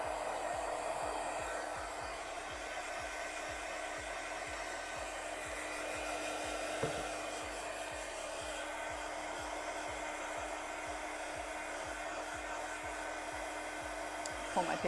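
A hair dryer runs continuously on a painting, a steady close whirring hum with a faint rhythmic flutter that lasts throughout, with one small knock partway through and no talking.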